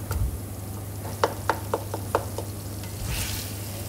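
Chunky mashed tomatoes stirred in a pan for kaleji masala, a Bakra Eid liver curry: a series of close, crisp scraping taps at a steady pace over a low, constant hum, with no one talking.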